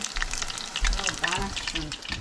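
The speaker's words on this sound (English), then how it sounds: "That's how the oil is supposed to sound, like deep frying." Oil crackles and bubbles in a busy deep-fry sizzle as shrimp fry, close and steady, with a voice speaking faintly underneath.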